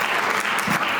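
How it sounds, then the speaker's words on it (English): Dense audience applause at a Diwali 2022 community celebration, steady and full for the whole second with no voices over it. "Give them a round of applause, ladies and gentlemen."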